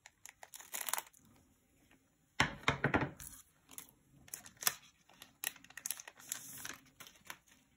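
Scissors snip and crunch through the crinkly plastic wrapper of a Pokémon card booster pack up close, in short bursts with quiet gaps, one longer stretch of cutting near the middle.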